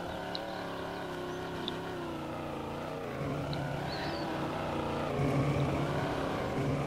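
A Plymouth Fury engine in SpinTires drones steadily while straining, a low tonal hum that grows heavier and louder partway through, with no voices over it.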